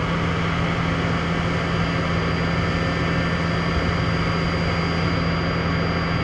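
The spindle of a Niigata SPN-50 horizontal machining center spins steadily at 5,000 RPM, a loud, constant broadband whir with a sustained tonal whine and low hum, unchanging throughout.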